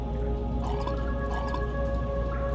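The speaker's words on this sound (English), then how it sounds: "I'm still getting some weird watery sounds out of it" Water drips in Penumbra: Black Plague, a few soft drops falling against a steady low droning hum, with no talk.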